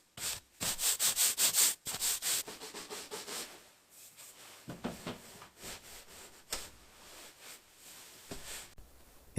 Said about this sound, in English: sanding it down to a smooth finish